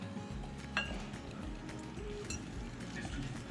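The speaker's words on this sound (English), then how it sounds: "We can just whisk it." Milk being whisked into pumpkin muffin batter in a bowl gives a steady run of light clinking and scraping strokes, close by and moderately quiet, with no talking.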